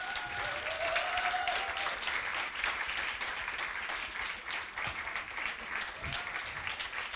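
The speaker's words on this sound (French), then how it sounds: "je vous demande d'applaudir Victor" A live audience at a Paris talk on the arms economy applauds a guest speaker named Victor, with steady dense clapping sustained throughout and a faint murmur of voices underneath.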